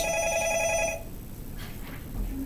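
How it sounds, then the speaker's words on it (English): A telephone rings in a classroom, a short loud electronic bell burst that cuts off after about a second, leaving room hiss. "The phone's ringing."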